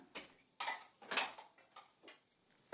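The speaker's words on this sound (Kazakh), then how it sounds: "Түскі астан қалған ыдыстарды жуу керекпін" Dishes left over from lunch are washed by hand, with a series of short, close clinks and clatters of crockery and utensils arriving in separate bursts, and no talking.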